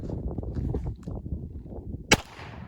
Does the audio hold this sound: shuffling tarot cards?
no